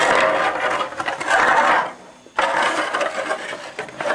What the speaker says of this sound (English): this is just kind of heavy-duty aluminum foil that I'm putting around here